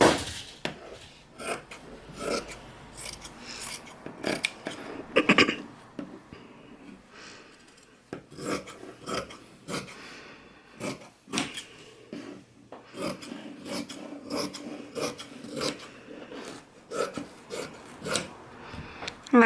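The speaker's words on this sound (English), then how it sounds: "So I'm just cutting around each piece, leaving 1/2 inch all the way around." Scissors cutting around fabric pieces for a bucket bag, with repeated close snips and rustling cloth in an irregular rhythm, moderately loud and with no talking.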